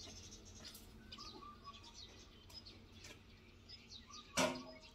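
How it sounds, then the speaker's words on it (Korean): Many small birds chirp and call around a vegetable garden beside a house, with scattered faint tweets throughout and one louder, sharper call near the end over quiet outdoor background. "아주 새들이 얼마나 많은지 겁도 없어"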